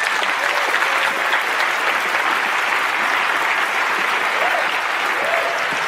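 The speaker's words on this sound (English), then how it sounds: "let's give her a big round of applause" Loud, dense round of applause from an audience at a live magic show as a volunteer comes onto the stage, sustained evenly for several seconds with crowd noise mixed in.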